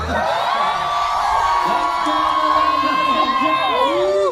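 A large crowd at an EDSA People Power anniversary rally in the Philippines cheers, whoops and shouts together, a loud dense roar of many voices that continues throughout.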